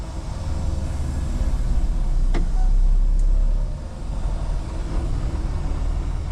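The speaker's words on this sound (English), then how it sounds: "Truck was raring to go." A truck's engine runs with a continuous low, throaty rumble that swells slightly in the middle. A single sharp click cuts through partway, and no one talks.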